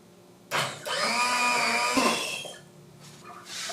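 A blender purees hot lentil soup, starting abruptly with a loud, steady whirring motor that runs for about two seconds and then winds down.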